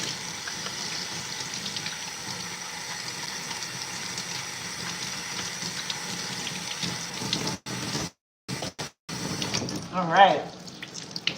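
Water runs steadily from a tap, rinsing conditioner out of hair in a home wash, a soft continuous splashing with short breaks and a brief spoken voice.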